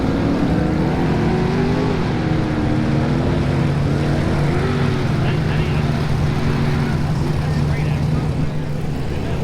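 An Ultra 4 off-road race vehicle launches from the start line with a loud, steady engine roar whose pitch wavers and climbs. Broad rumbling noise runs underneath throughout.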